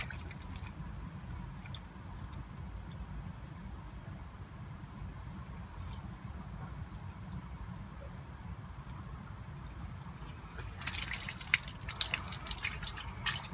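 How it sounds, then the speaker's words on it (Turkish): Water trickles and drips steadily as a potted plant is watered, with a louder, splashier burst of pouring near the end; no voices. "Şimdi de can suyunu verelim bitkimize."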